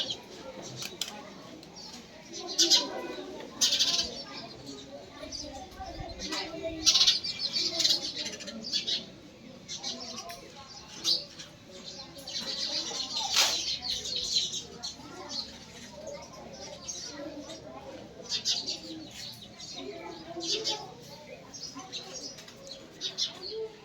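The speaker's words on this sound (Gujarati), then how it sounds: "આશ્રમ શાળા કાળાસરમાં ઘણી બધી ચકલીઓ છે" Many house sparrows chirp and twitter continuously at an ashram school in Kalasar, bright overlapping calls close by, with a voice speaking now and then underneath.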